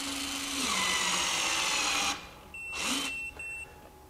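Hytorc Lion Gun precision bolting tool tightening a bolt to 500 foot-pounds, a loud whirring drive for about two seconds, then silence followed by shorter, quieter bursts with faint clicks.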